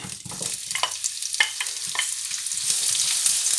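Hot oil sizzles and crackles steadily in a pan while a utensil stirs, close and fairly loud, as cooking begins for a dish of small fried fish (ndakala) with spinach and onions.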